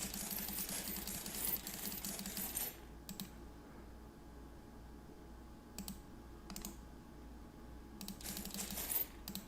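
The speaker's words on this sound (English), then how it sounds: "shuffle the bag and see who gets to go first" Plastic game counters for the wargame White Star Rising are shaken and rattled in a bag, with two long bursts of clattering at the start and end and a few short shakes in between.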